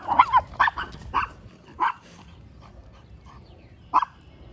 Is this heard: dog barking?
yes